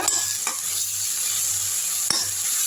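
Ginger and garlic paste sautéing in a pan, a steady close sizzle with a faint low hum and a couple of sharp clicks of a stirring spoon against the pan.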